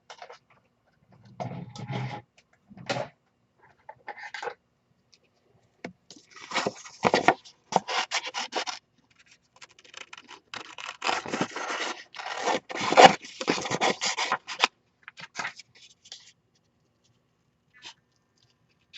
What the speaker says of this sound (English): So I'm going to cut these out next.